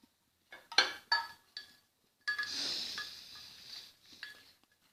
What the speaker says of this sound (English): Now mix some butter with crackers in the container.